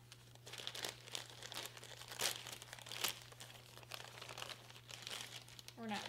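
Crinkly resealable plastic package for wool roving being handled and opened, giving close, continuous rustling and crinkling with a few sharper crackles, quiet and mixed with a person speaking.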